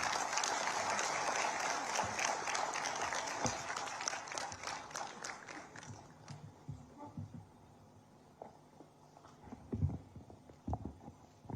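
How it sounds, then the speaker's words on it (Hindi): Audience at a live state science and technology conference in Uttarakhand claps loudly to welcome the chief minister, then the applause fades into scattered claps and stray hall noise over the last several seconds. "आपकी जोरदार तालियों के साथ अध्यक्षीय उद्बोधन के लिए माननीय मुख्यमंत्री श्री पुष्कर सिंह धामी जी का स्वागत कीजिए"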